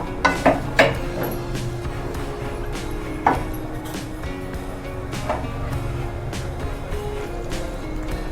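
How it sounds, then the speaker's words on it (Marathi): Moong dal halwa being stirred in a pan as milk is added, with a steady low sizzle and scraping, plus a few sharp clinks of the spoon against the pot near the start. "व्यवस्थित ढवळून घ्या, व्यवस्थित हलवत राहायचं, कारण त्याच्या गुठळ्या होऊ द्यायच्या नाहीत"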